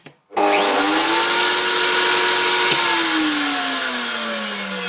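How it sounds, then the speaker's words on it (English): A router motor mounted in a homemade router table spins up with a loud rising whine, holds a steady high-pitched roar, then begins winding down near the end. "And start the router inside this hole"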